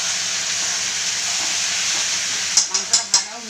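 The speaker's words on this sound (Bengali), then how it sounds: "এই যে মাংসটা এখানে ভাজা হচ্ছে" Meat frying in a pan gives a steady, moderate sizzle that runs throughout, then a quick series of four sharp scraping clacks of a utensil against the pan near the end.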